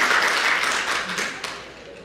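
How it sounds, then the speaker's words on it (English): An audience at a book festival applauds in a dense, steady wash of clapping that fades slightly over two seconds. "Round of applause."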